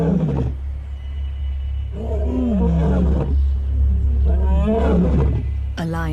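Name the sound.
male lions roaring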